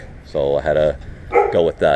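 A dog barks twice, a short pause, then two more loud nearby barks, partly under someone talking.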